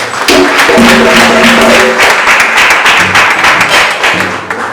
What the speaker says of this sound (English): I believe that is the point that we need to clap for her.